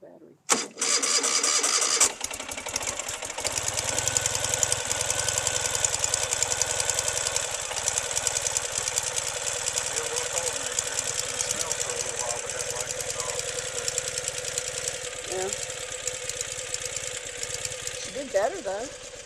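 A Ural cT motorcycle with a Keihin EFI upgrade cranks and fires, then settles into a steady, slightly knocking idle close by, with a person talking quietly near the end.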